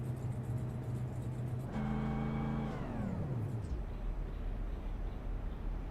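A stock car engine in a racing video game idles with a steady low hum, then revs briefly and the pitch sweeps down before settling back to a low rumble.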